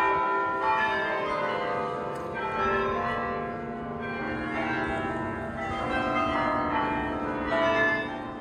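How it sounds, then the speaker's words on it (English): Carillon church bells play a melodic tune driven by a pegged rotating cylinder, bright overlapping tolls ringing out continuously with long sustained resonance and no voices. "you're walking down the street and you hear bells ringing out a tune"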